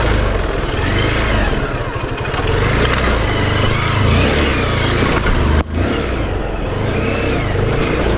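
A CBZ motorcycle engine revs loudly and steadily while riding off-road through village terrain, the roar holding strong before a sudden brief drop near the end, then picking up again.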